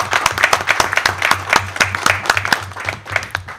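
Warm applause from an audience at the inauguration of a mobile clinical unit: dense, steady clapping at close range, lasting throughout without a break.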